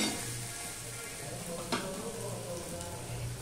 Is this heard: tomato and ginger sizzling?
yes